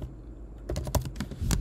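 A computer keyboard typed on at close range in quick irregular keystrokes while a Linux command is entered on Ubuntu, short sharp clicks starting after a quiet moment, with no voices.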